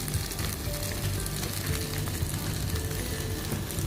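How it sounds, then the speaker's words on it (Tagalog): Chicken feet for adobo frying in a pan, a dense, steady sizzle and crackle of hot oil heard close up throughout, with no talking. "After po ng 10 minutes, umpisa na po nating isisa ng ating chicken feet."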